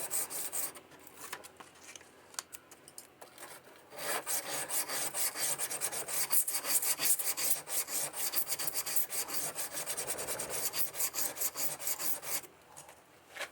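An English style paring knife is rubbed back and forth on emery cloth, a steady dry rasping scrape with rhythmic strokes, close and continuous with brief pauses.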